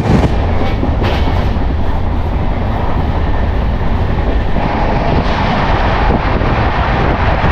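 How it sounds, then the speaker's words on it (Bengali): Kamrup Express, train 15960, running at high speed on the Dimapur to Kolkata route, with a steady, loud roar and rumble from the rails and a few clicks, continuous throughout with no talk. "ট্রেনের স্পিড এখন 115, দারুণ স্পিডে চলছে ট্রেন"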